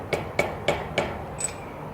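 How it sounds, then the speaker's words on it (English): A hammer taps four times in a steady rhythm on a crankshaft bolt head during a Mazda Miata engine teardown, each hit a sharp, close metallic knock, followed by a faint ringing ping. "So just tapped on the crankshaft itself."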